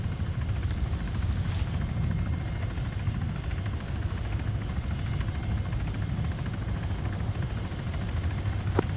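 A helicopter in the Arma video game gives off a steady, heavy rotor-and-engine rumble that stays loud and unbroken from start to finish.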